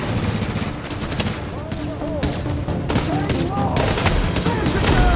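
Enemy gunfire in The Division at the Napalm Production Site, sustained rapid automatic shots firing continuously and loudly over a dense layer of combat noise.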